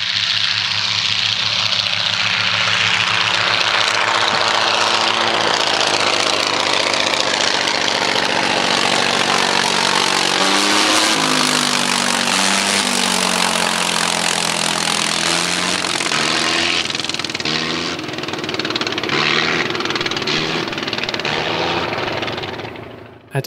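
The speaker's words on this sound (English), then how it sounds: "this Sopwith Camel replica does sport an original Gnome rotary engine." An original Gnome rotary engine on a Sopwith Camel replica drones loud and steady, its pitch sliding and wavering as it revs up and down, with no voices over it.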